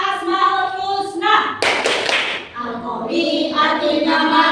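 A class of children claps rhythmically along with a teacher during a classroom clapping chant, sharp bursts of claps heard close amid children's chanting voices.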